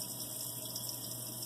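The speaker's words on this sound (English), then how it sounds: "begin rinsing with warm running water, keeping fingers pointing down" Warm water running steadily from a tap while hands are rinsed during handwashing, a constant close hiss and splash without pauses or speech.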